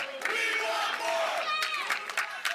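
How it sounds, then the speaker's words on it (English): Arena crowd at a professional pickleball match cheers and shouts continuously, a dense, loud roar with rising whoops and a few brief claps near the end. "What are you hearing in the background? The crowd again."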